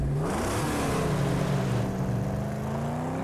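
A car engine revving in the Mad Max video game, a loud, close, steady growl that climbs in pitch as it accelerates, with no talk.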